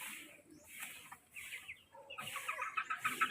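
Chicks released onto the ground outdoors, a chorus of high chirps and peeps that grows busier toward the end, with clucking hens nearby.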